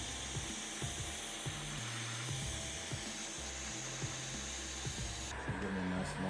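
Heat gun blowing a steady hot-air roar over a faded Jeep Wrangler fender flare during a restoration, continuous and close with faint ambient knocks underneath.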